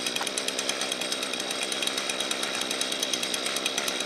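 Small engine of a 2008 John Deere LT105C-LE trimmer idling a little high, a steady rapid buzzing drone, close and constant throughout.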